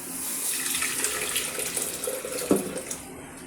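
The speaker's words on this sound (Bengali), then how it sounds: "দিয়ে দিলাম ডালের মধ্যে গরম জলটা" Hot water is poured from a wok into dal (lentils) in a home kitchen, making a steady running, splashing pour throughout with a brief louder splash near the end; no one speaks.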